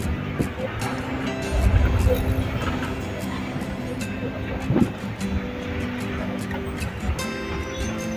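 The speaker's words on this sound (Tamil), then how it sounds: "அதனால் அப்படியே பஸ்ஸு மூவ் ஆகிட்டுருக்கு" A bus moves along a road in light traffic, giving a steady engine rumble and road noise throughout, with a voice talking over it and faint higher-pitched noises now and then.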